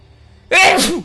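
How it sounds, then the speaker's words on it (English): One loud, close sneeze bursts out sharply after a quiet moment, then fades. "Oh, I have a sneeze coming, hang on."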